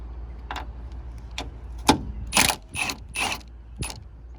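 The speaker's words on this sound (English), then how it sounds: "Oh, I love my impact." An impact wrench tightening strut bar bolts on a 2006 Maxima with a six-speed, heard as a few short mechanical bursts and rattling clicks, close and fairly loud with quiet gaps between them and no talking.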